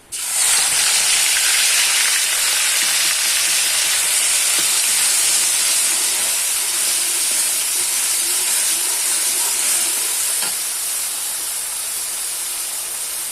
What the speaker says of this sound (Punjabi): ਹੁਣ ਇਸ ਵਿੱਚ ਪਾਵਾਂਗੇ ਗ੍ਰੈਂਡ ਕਰੇ ਪਿਆਜ਼ ਤੇ ਲਸਣ